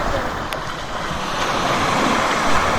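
Sea waves wash steadily onto the shore at Sualig Bay beach, a continuous broad hiss of surf with some wind buffeting the microphone, loud and close throughout.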